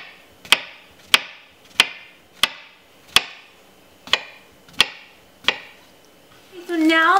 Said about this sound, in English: now we're just going to slice them up, easy peasy, nothing special